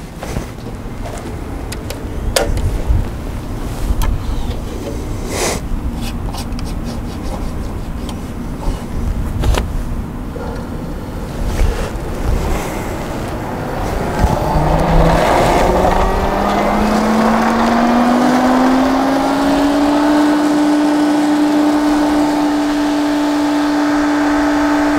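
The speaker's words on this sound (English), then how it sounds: "We're going to go ahead and turn the pump back on." A pool pump for a salt chlorine cell starts up after some clunks and handling noises, its motor whine rising in pitch and settling into a loud, steady hum that runs to the end.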